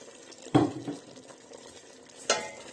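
Meat and plenty of onions with a hot pepper stewing in a pot for Transcarpathian bograch are stirred, two distinct scraping knocks of the spoon over a soft, quiet simmer, close by with no talk.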